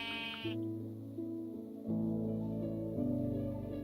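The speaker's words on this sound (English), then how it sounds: "I think that sheep is stuck" Sheep in a building video game bleat in a string of steady, tonal calls, several overlapping bleats near and fairly loud, with no talk over them.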